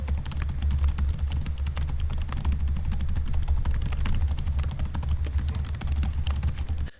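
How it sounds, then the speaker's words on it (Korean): Quiet, low-noise typing on an ASUS ROG Zephyrus GU502 gaming laptop keyboard, a steady stream of soft, muted key taps close up, continuing evenly before stopping at the end. "우선 키보드의 타이핑부터 살펴볼게요."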